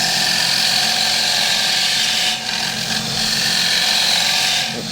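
Wood lathe with a bowl gouge cutting a turned bowl, a steady high-pitched whine and hum of spinning wood and tool contact running close and continuous, briefly dipping midway, with no talking.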